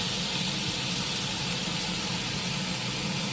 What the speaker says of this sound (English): That sizzle is exactly what I was hoping to hear.